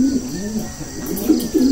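Pigeons coo in low, rounded repeated phrases close by while boxes of birds are unpacked, the soft throaty calls overlapping continuously with faint chirps.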